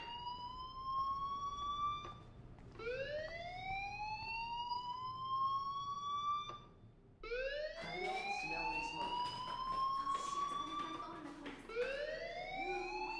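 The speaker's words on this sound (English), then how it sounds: "do you hear that fire alarm? That means you should be outside." A rising, wailing fire alarm in the video game Life is Strange sweeps upward repeatedly, with overlapping tones joining in the second half; it sounds synthetic and fairly quiet.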